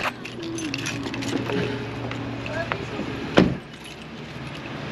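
Keys jangle on returning home after travel in Canada, with light metallic rattling under background noise and a sharper clink and thud near the end, fairly close.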